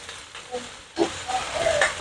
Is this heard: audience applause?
no